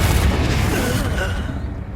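A Confringo spell explosion in Hogwarts Legacy lands as a loud, close, deep boom that rumbles and slowly fades over two seconds.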